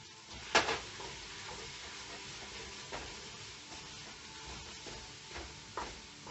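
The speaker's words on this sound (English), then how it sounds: "We're going to stir in the salt" Salt gets stirred into browned meat in a pan for stuffed green peppers. A soft continuous sizzle runs underneath, with scraping and stirring sounds, one sharper clatter near the start and a few lighter knocks later.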